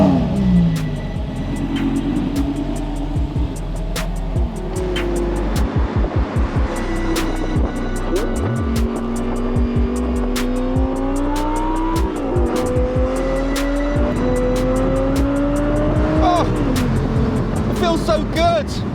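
An Audi R8 GT's 5.2-litre V10 through a Miltech race exhaust, loud and close, revving hard through repeated rising gear pulls with sharp shifts and crackles between them.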